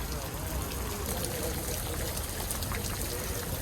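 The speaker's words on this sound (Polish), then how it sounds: "Jak woda zlatuje z góry?" Water pouring and splashing down steadily, a continuous rushing wash filling the scene with no clear breaks; voices are faintly present beneath it.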